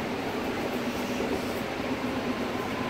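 Steady rumble of a BART Fleet of the Future train car riding between Fremont and Lake Merritt, a continuous broadband roar with low rail hum, constant and fairly close, no talking.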